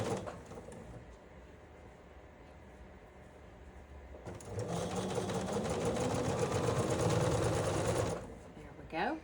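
A sewing machine stitches quilt block pieces together for a Riley Blake block challenge, its fast steady whir running for about four seconds after a quieter stretch, then stopping abruptly.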